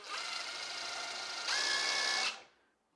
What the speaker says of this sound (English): got our drill bit for the hinges over here